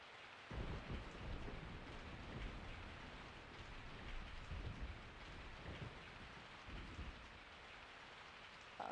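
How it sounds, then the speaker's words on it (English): Steady rain falls with low rolling thunder in a Resident Evil 3 night scene, a dense continuous patter under deep rumbles that swell and fade, with no voices. "I woke up to the sound of falling rain"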